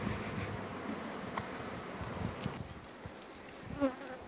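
Honey bees caught in a jar for a varroa alcohol wash buzz in a steady, faint drone, with small knocks and handling noises near the end.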